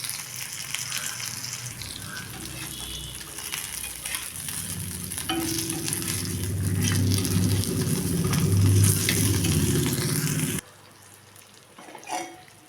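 Curry masala for fish kuzhambu frying in a pan, a continuous close sizzle with stirring that swells louder midway, then cuts off abruptly, leaving a quieter background with a brief clatter near the end.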